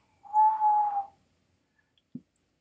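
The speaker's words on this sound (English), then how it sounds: "Yes, I can whistle," A person whistles a single sustained, steady note lasting under a second, clear and fairly near, followed by near silence with a couple of faint brief clicks.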